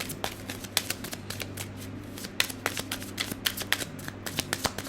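Tarot cards are shuffled close up, with quick papery riffles and crisp snapping clicks in an uneven rhythm, fairly quiet and heard alone with no talking.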